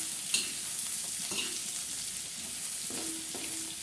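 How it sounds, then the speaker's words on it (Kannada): Bitter gourd frying in oil over a medium flame, a steady broadband sizzle running throughout with a few brief stirring scrapes and clinks of a utensil against the pan; no one talks. "ಅದನ್ನು ಎಣ್ಣೆಯಲ್ಲಿ ಹಾಗಲಕಾಯಿನ ಚೆನ್ನಾಗಿ ಮೊದಲು ಫ್ರೈ ಮಾಡ್ಕೊತಾ ಇದ್ದಾರೆ."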